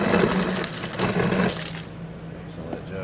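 A Kenmore Elite 23.5 cu. ft. counter-depth bottom-freezer refrigerator drops crushed ice from its door dispenser, a dense rattling clatter lasting about a second and a half before fading to a low, steady hum.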